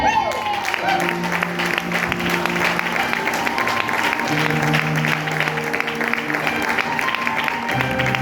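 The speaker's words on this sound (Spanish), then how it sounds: "Un aplauso." A church congregation applauds steadily for about eight seconds during a Spanish-language sermon, the clapping running loud and continuous under voices and tonal sounds.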